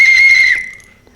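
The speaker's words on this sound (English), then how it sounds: "The whistle is a nice loud whistle" A survival whistle from an Aspen Ridge Sports survival kit gives one loud, shrill, steady blast of about half a second, close by, then cuts off and dies away quickly.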